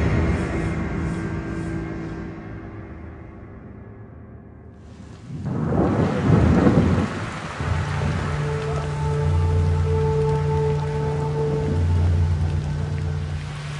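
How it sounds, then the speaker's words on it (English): Thunderstorm over an island: a loud broadband rumble of thunder swells midway and then eases into steady rain, with a sustained low drone beneath, and no talk. "Look at that thunder."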